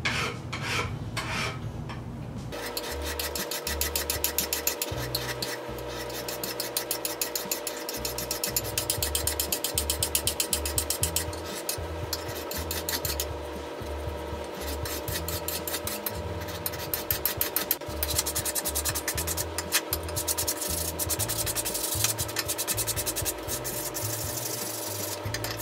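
A hand file rasps across a small metal T nut for an AXA tool post on a South Bend 9C lathe, in steady repeated strokes with a scratchy, rhythmic cadence under a faint background hum.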